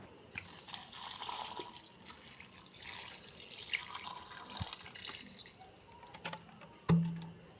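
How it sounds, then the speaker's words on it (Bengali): Water is poured into a pot of cooked rice indoors, a faint sparse trickling and dripping with soft splashes and a sharper knock near the end, quiet and close with no voices. "ভাতে জল দিয়ে দিলাম"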